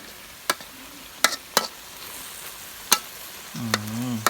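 Spicy eel curry stir-fries in a pan with freshly picked green peppercorns: a low steady sizzle broken by a handful of sharp spatula clicks against the pan, and a brief voice near the end.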